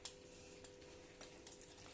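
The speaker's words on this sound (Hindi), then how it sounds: "इसको बीटर से मिक्स करती हूँ।" A sauce being mixed with a beater in a kitchen, faint steady whisking with light scraping and clicking taps, quiet and without talk.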